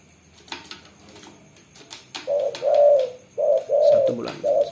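A pet dove coos loudly and close by, giving a series of deep, rounded, repeated calls with short pauses between them. Quieter rustling and soft clicks come first. No one speaks.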